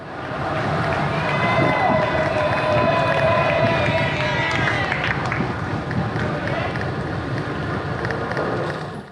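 A roadside crowd in France cheers passing cyclists on a 300 km ride, a loud, steady wash of shouting and clapping voices that carries through the whole stretch, with wind rushing over the microphone.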